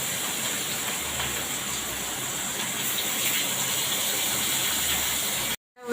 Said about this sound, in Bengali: গরম হয়ে গেছে, মাছগুলো ভেজে নেব।